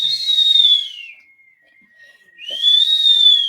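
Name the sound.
eerie whistling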